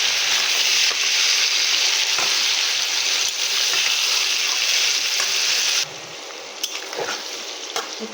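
Chopped onions fry in hot oil for chicken korma, giving a loud, continuous sizzle with a few clicks of stirring, then a quieter, duller tail with a few knocks.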